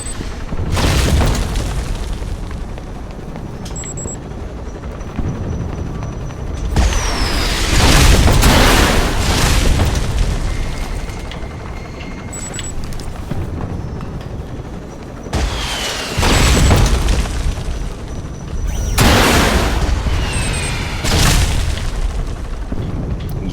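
Missile explosions in the video game Alpha Protocol, a series of loud, heavy booming blasts with rumbling tails that break out repeatedly over a constant background of gunfire and combat noise.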